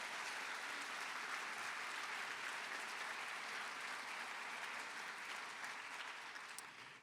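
An audience at a university convocation applauds, a steady, even crowd clapping heard faint and distant that tapers off at the end.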